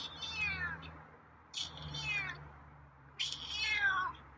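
A feral cat meows three times at even intervals, each call a drawn-out, falling cry, fairly close and clear over a quiet, low background hum.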